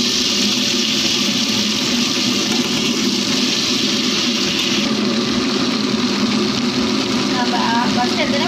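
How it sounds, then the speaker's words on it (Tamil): A wet grinder churns soaked urad dal into idli batter, giving a steady, loud, continuous whirring and grinding with no pauses and no talking. "இப்போ நம்ம ஆட்ட ஆரம்பிச்சிடலாம்."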